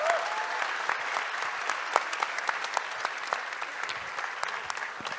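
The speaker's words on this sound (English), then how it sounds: "So please give them a round of applause." Audience at a film festival Q&A applauds with steady, sustained clapping, close and continuous throughout with individual claps standing out.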